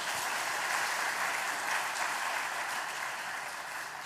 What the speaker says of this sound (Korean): 한번 박수해 주시기 바랍니다.